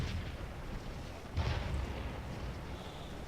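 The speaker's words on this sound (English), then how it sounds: "This artillery's been doing its job there." Artillery fire in the Scourge of War battle game: dull, distant-sounding booms over a constant low battlefield rumble, with one stronger blast standing out near the middle of the stretch, and no talking.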